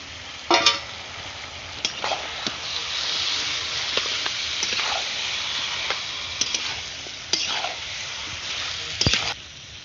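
A kilo of chicken frying in a pan with ground cumin, dried red chilli and black pepper paste, giving a steady sizzle with occasional sharp crackles and spoon scrapes throughout, close and moderately loud, with no talking.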